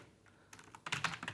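Fast, light key clicks on a computer keyboard, a few soft taps followed by a denser burst of typing, close and quiet.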